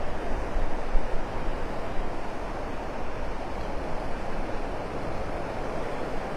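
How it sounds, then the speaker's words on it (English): Strong wind buffets the microphone at the north end of the beach at Delnor-Wiggins State Park in Naples, Florida, in the evening, blending with the roar of the surf. The broadband rush is continuous and fairly loud, with gusts near the start. "very windy out here this evening"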